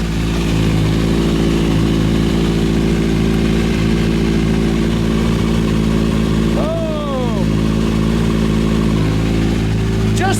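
A motorcycle engine idling steadily after charging-system repairs, a loud, close, even rumble with a brief dip midway, continuing throughout.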